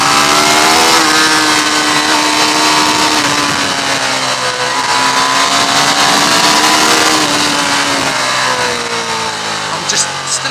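A 2015 Ducati Diavel motorcycle rides fast along country roads, its engine roaring loud and close with rising and falling revs over rushing wind, and a rider's voice faintly present.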